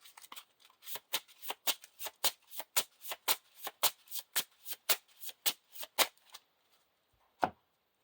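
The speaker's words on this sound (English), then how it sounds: "and this is shuffled." A deck of cards for a Lord of the Rings living card game being riffled: about sixteen crisp, evenly spaced snaps in quick succession up close, ending in a short pause and one final tap.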